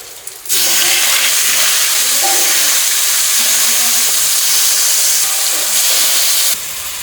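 Cumin seeds hitting hot oil in a wok set off a sudden, loud, sustained hiss that runs unbroken for several seconds before easing off.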